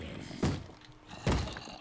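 Zombies in Minecraft bang on a wooden door: two heavy, hollow thuds about a second apart, close and loud, with quiet between the blows.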